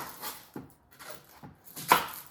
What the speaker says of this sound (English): We're gonna cut some of these up, okay? I usually do onions first.